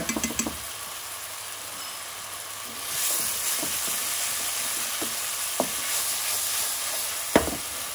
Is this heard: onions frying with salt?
yes